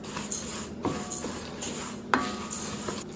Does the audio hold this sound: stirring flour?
yes